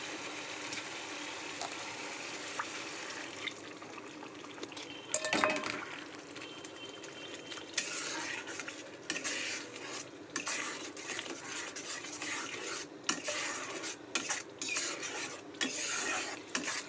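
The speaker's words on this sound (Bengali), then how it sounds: "এর মধ্যে একটু জল দিয়ে গুলিয়ে মশলাটা এর মধ্যে দিয়ে দেবো।" Spoon scraping and clinking against a pot while poppy seed and melon seed paste is stirred with water into spices, a steady close rasping with sharper knocks throughout, no talk.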